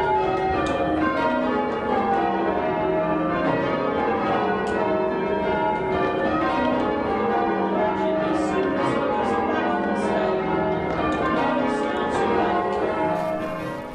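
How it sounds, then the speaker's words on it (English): Church bells rung by a team of bell ringers at Tynemouth, a continuous loud peal of overlapping clangs rolling through changing patterns, with no voices. "let's see some of today's bell ringers in action"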